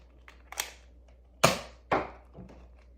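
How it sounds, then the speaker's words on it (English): A Zuru X-Shot MK3 toy blaster fires Adventure Force darts, giving a few sharp close snapping shots spaced about half a second apart, with faint clicks of priming before them. "Now some Adventure Force Nipplehead style darts."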